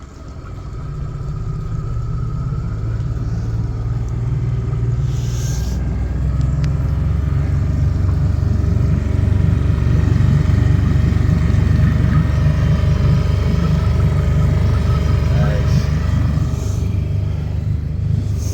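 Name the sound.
motorboat engine running during a drive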